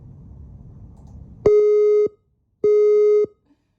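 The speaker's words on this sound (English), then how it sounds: "In an emergency situation, alarms will sound." A building emergency alert tone sounds as two loud, identical steady beeps, each lasting about half a second with a short gap between them. It comes after a stretch of faint background hiss.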